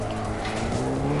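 Car drifting in the CarX Drift racing game, a loud sustained engine roar with steady harmonics and a rising tire squeal across the whole short burst, no voices.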